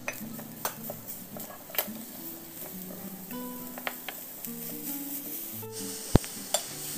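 Jaggery is stir-fried in a pan over a low flame, with quiet scraping and a series of distinct clinks of a utensil against the pan, plus one sharper knock near the end.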